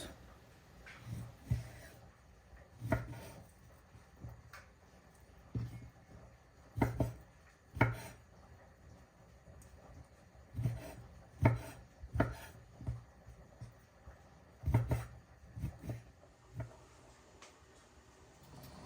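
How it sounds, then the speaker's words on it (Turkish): A knife strikes a wooden board as meat is cut into small cubes, giving irregular clusters of solid, close thuds and knocks with quiet pauses between and no talking. "Kuşbaşı doğruyoruz"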